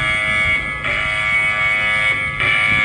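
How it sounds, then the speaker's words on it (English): A shrill, steady fire alarm tone from an emergency alert recording sounds continuously and loudly, with two brief dips in pitch. "It's just another fire alarm."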